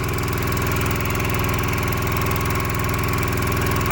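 A Honda generator engine labours under a whole-house load, a loud, steady close-up drone with a rapid pulsing, knocking beat running throughout, with no voices.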